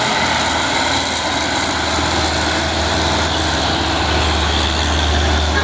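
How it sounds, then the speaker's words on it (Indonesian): A heavily loaded truck labors up a steep climb, its engine droning loud and continuous with a deep low-pitched strain, close and unbroken for several seconds. "Truk bermuatan berat."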